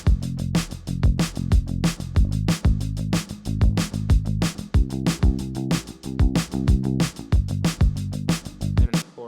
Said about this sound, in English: So drums and bass sound like this.